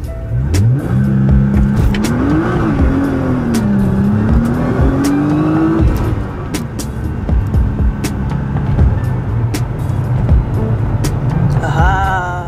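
Nissan GT-R engine in race mode, revving and accelerating hard, with a rising whine and a loud, continuous roar throughout, close and alone without talk.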